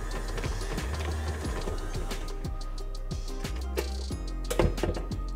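A stand mixer kneads babka dough with a steady, loud mechanical hum and repeated rhythmic thumps and knocks as the dough slaps the bowl, running continuously without talk.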